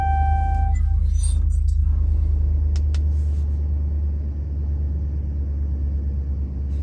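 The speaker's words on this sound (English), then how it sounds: "So press the brake and start your vehicle to get to the next step." A 2013-2017 RAM 1500 pickup truck engine turns over and settles into a loud, steady low idle rumble, with a brief electronic chime at the start and a few faint clicks.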